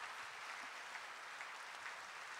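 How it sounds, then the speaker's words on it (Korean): A church congregation claps together during a Sunday service, a soft, distant, even patter of many hands in a large room that holds steady for a couple of seconds, with no talking. "박수하겠습니다."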